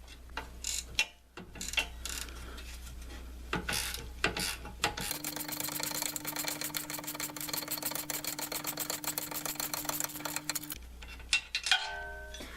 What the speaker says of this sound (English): I need to put a Torx socket on here to hold this from moving as I undo this nut.